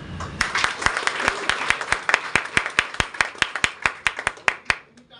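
An audience at a speech in Sangli claps in a fairly tight, rhythmic pattern, many hands striking together in sharp repeated beats, loud and close, ending abruptly.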